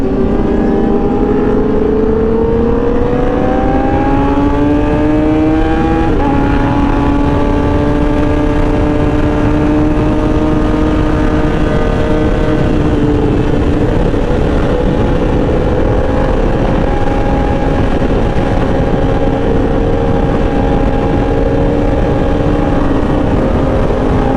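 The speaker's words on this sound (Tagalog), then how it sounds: "Ibang arangkada na itong Fireblade na to, ang hahaba." A Honda CBR1000RR Fireblade sportbike pulls hard on the road, its engine note climbing steadily through long drawn-out gears, loud and close under heavy wind roar, with a brief dip at each shift before the pitch rises again.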